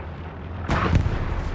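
A sudden loud burst of gunfire cracks out after a quiet moment, with a second sharp shot close behind, echoing briefly.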